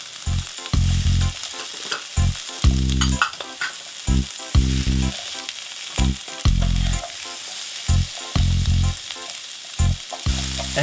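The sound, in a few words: zucchini and pepper sizzling in a frying pan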